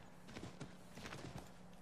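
Horse hooves clip-clopping in Assassin's Creed 3, a quick, quiet run of soft hoof steps at a walking pace against faint background ambience.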